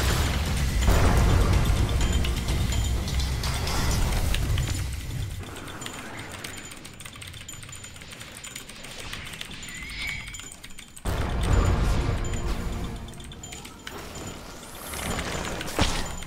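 Blox Fruits explosions burst loudly at the start and again partway through, with clicking and mechanical clatter between the blasts; no one speaks.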